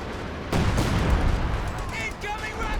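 Howitzer artillery fire in Company of Heroes 2 lands as a deep, heavy boom that rolls on under a constant game din, while a commentator talks over it.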